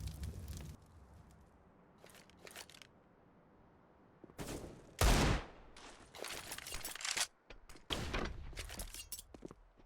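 Rapid bursts of gunfire crackle through a Counter-Strike match, loud volleys and single shots scattered among quieter stretches of footsteps and movement.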